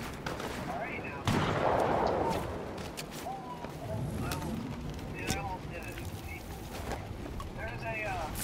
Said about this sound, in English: There's people shooting at us.